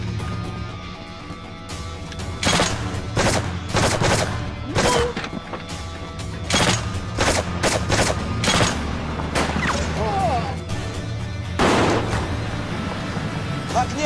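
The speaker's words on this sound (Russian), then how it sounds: "Оттуда палят! Сверху!" Repeated gunfire from a sniper and soldiers in a wartime battle scene: sharp cracks and bursts spaced irregularly over a steady rumble, with shouting voices in between.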